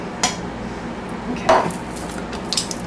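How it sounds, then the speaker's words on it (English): Metal cans being opened in a kitchen for black bean soup, with a few sharp clinks and scrapes of the opener against the tins, spaced out over a quiet background, and a brief word spoken. "I'm just kind of opening these cans here to put into the broth"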